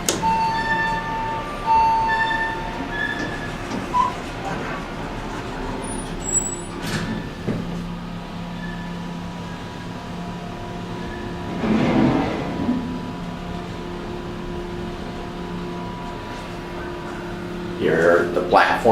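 A train with an ACS-64 locomotive sits at a station platform, giving off a low rumbling idle with hisses and clanks, faint electronic tones and passing bursts of noise, while a person speaks over it.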